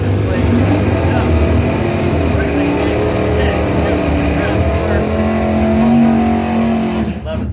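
A Chevy dragster at a bracket drag racing event roars with a loud, sustained engine drone that holds steady for several seconds, while an announcer talks over the noise.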